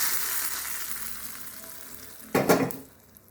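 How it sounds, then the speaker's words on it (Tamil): Hot coconut-oil tempering with curry leaves hits drumstick leaf kootu in a sharp, loud sizzling burst near the end, after a steady low frying hiss, then fades quickly. "இப்போ தாளிப்பை இதில் சேர்த்துடலாம்."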